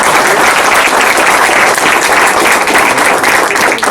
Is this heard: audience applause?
yes